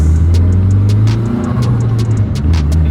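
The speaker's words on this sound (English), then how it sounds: "It sounds like the turbo is inside the car." A Nissan S15 turbo engine accelerating hard from inside the car, a loud, close, continuous engine drone with rising pitch and sharp turbo whooshes and clicks layered on top.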